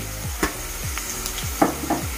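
Ginger garlic paste fries with onions and green chillies in a pan for an egg and okra curry, giving a steady sizzle broken by several scraping stirs and a few sharp spatula knocks, close up with no talk.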